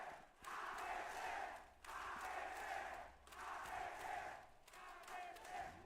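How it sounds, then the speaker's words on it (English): An esports arena crowd during a competitive match rallies and cheers in repeated loud surges, each swell lasting over a second with brief dips between, a dense roar of many voices filling the space. "You can hear the crowd rallying behind them, hungry for blood"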